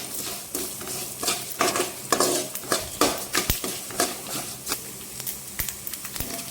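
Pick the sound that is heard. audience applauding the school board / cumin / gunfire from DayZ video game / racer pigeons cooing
cumin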